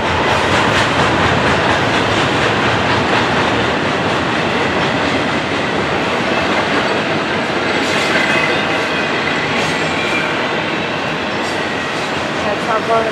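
A train rolls past outdoors in Crockett, California, a loud, steady rumble with rhythmic clickety-clack of wheels over rail joints and faint squeals, filling the whole stretch without a break.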